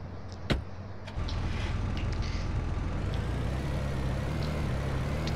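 Toyota Prado car driven in GTA San Andreas, a steady game engine drone that rises after a brief click, continuing evenly at close range with faint whirring overtones.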